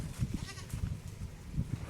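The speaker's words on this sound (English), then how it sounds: "Now we are going to see the Gala goats." Galla goats bleat faintly in short, repeated low calls among a herd, rough and wavering, with soft background noise and a speaking voice nearby.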